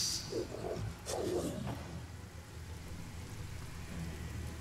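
Rain spell cast in Divinity: Original Sin, a soft steady hiss of falling rain with a brief splashy burst near the start, fairly faint and with no voices.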